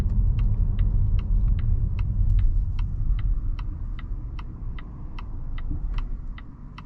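A 2022 Volvo S90 B6 sedan accelerating from 25 to 60 mph on bumpy, curvy back roads, heard from inside as a steady low engine and road rumble with a regular ticking, likely the turn signal, running throughout.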